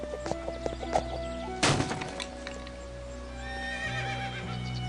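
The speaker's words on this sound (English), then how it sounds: "I hear a horse." A horse neighs loudly once in the video game Vampire: The Masquerade – Redemption, a sharp whinny rising out of a steady ambient hum, with a few soft thuds and faint bird chirps around it.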